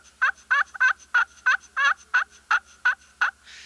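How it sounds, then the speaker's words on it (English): Soft turkey yelps from a slate call worked with light striker pressure, ten clear evenly spaced notes at close range, alone with no talk, ending in a faint scratchy rasp. "So if you want a real light, real soft call,"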